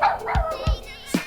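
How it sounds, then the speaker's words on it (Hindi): A dog barks nearby in a few short, sharp woofs spaced apart, moderately loud and alone with no voices. "ये कभी भी भौंकता है यार मेरे पे"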